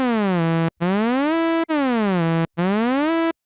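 Xfer Serum synthesizer with portamento curve set to zero, four bright buzzy sustained notes, each gliding in pitch between steps, separated by short silences, loud and alone.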